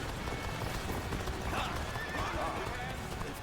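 A horse in Dynasty Warriors Origins whinnies over the rush of galloping hooves, loud and close amid a dense battle din, with voices mixed in.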